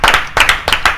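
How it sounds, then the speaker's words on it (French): Studio audience on a French talk show clapping, a brief burst of bright, close hand claps coming in a few uneven waves. "Et ça, on va applaudir."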